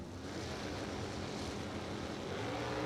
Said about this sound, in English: Nice smooth pass down the quarter mile.